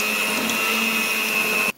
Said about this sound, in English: now I can use the blender without fear